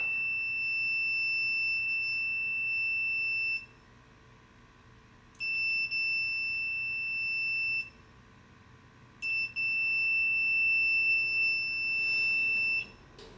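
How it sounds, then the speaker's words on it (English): A multimeter in continuity mode emits a steady, clear electronic tone while testing the Clicky probe on a Voron 2.4 3D printer. Three long beeps sound alone, separated by brief silences when the probe's button is pressed. "The multimeter will beep, and it'll be silent when the button is clicked."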